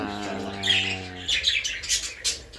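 Jumbo budgerigars in a pet shop chirp and squawk, bright and fairly close. The chatter follows a short harmonic call at the start, and there is no talk over it.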